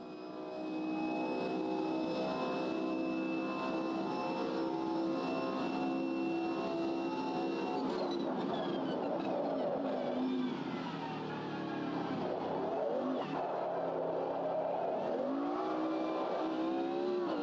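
Race car engine in the Automobilista 2 sim racing game during a push lap, a loud sustained whine rising and falling through gear changes and braking, with pitch sweeps as the car accelerates out of corners.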